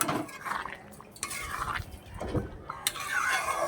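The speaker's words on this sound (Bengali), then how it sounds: "এটাকে আমি এখন ভালো করে আবারও একটু নেড়ে দেবো, নাড়াচাড়া করে দেবো।" A spoon stirs vegetarian aloo dum potato curry in a pan, making soft, repeated scraping and clinking close up, with no talking.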